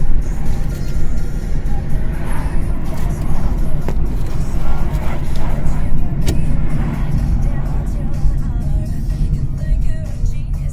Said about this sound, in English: this is bus number 200E, the Budapest bus